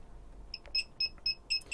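The main control panel of a 2018 Swift Bessacarr E599 caravan beeps in a run of short, high electronic tones, repeating quickly and moderately loud over a quiet background.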